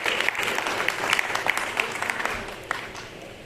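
Audience clapping fills an MCD auditorium in Delhi during a legal awareness program, a steady moderate wash of many hands with a few sharper claps standing out, continuing evenly for a few seconds.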